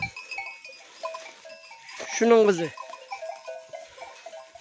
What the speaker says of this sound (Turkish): Şu büyük koyun.